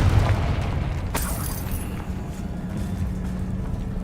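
Confringo blasting spell in Hogwarts Legacy bursting into a single broadband boom about a second in, trailing off into a low rumbling tail over steady game ambience.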